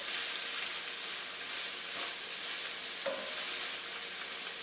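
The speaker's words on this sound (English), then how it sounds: "when you're stir frying for a wok, you got that heat really going" Garlic sizzles in a very hot wok for kung pao shrimp, a steady close hiss of frying with faint stirring scrapes and no talking.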